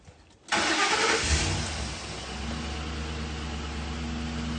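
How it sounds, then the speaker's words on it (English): A car engine cranks and catches abruptly, then keeps running at a steady, rough idle, starved of fuel with symptoms of a failing fuel pump and running only on fumes; close and loud, with no talking. "I'm going to try to crank it up"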